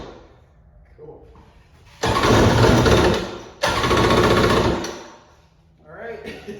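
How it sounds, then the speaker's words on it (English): A 1990 Yamaha WaveRunner jet ski engine catches and fires, roaring loudly in two close bursts of a few seconds each with a brief dip between, with faint talk before and after. "All right, it's firing."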